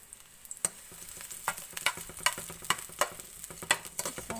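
Chopped onion sizzles gently in a frying pan for Indomie Mi Goreng noodles, with soft intermittent scrapes and taps of stirring over the steady frying hiss, close up and without talk.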